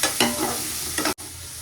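Steady sizzling of onions sautéing in a pan for biryani, with a couple of stirring scrapes and a brief cut-off near the end.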